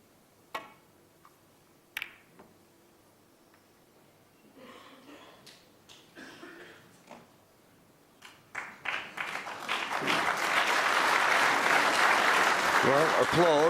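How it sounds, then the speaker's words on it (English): Snooker World Championship final crowd in an arena breaking into loud sustained applause near the end, after a stretch of sparse ball clicks and quiet commentary. "Well, applause"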